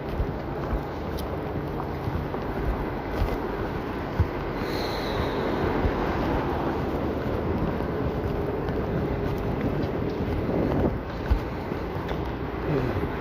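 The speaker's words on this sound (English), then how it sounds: "that's where you would get this kind of wind" Wind roars steadily outdoors in London, a broad continuous rush buffeting the microphone for the whole stretch with no voices.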